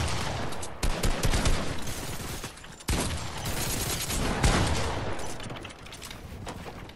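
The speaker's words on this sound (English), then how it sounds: "They shoot? Goodbye, they shoot me!" Video game gunfire erupts in rapid automatic bursts and fusillades, loud and close, with sharp breaks between volleys and a dense mechanical clatter running underneath.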